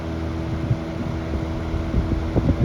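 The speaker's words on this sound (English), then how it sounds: "But we'll go to high speed and do the spin down from there." A Westinghouse Riviera 8-inch electric fan runs at high speed, giving a steady, moderately loud whirring hum with a faint mechanical flutter throughout, heard alone.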